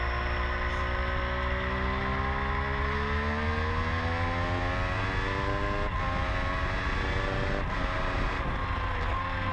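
A sport motorcycle, likely a 675 triple, accelerating hard down the main straight at Pembrey circuit, its engine note climbing steadily in pitch through the gears, loud and continuous with rising whine and no talking.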